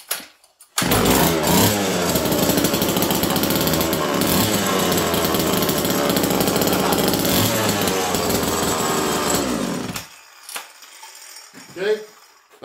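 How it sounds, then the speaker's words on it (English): A two-stroke reed-valve chainsaw engine runs loud and close for about nine seconds with a raspy, buzzing roar, then shuts off, leaving a few faint clunks. "That's a reed saw."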